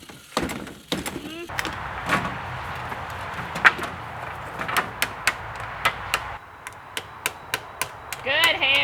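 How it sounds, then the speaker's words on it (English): Nails are hammered into wooden slats on a rabbit tractor outdoors, with sharp, irregular strikes that turn into a quicker run of evenly spaced blows near the end. Voices talk quietly underneath. "You're doing a great job hammering with Daddy."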